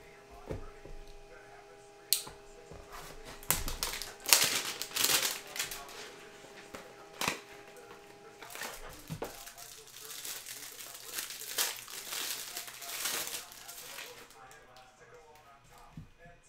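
Foil wrapper of a 2021 Prestige football hanger box card pack crinkling and tearing open close up, with soft shuffling of the cards afterward, under a faint steady hum.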